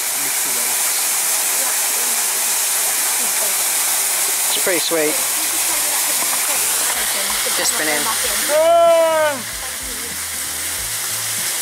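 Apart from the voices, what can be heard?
waterfall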